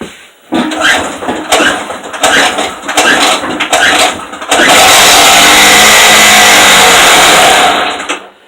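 A Stark generator engine cranking over in several short bursts, then catching and running at a loud, steady, buzzing idle that fills the space before cutting off abruptly.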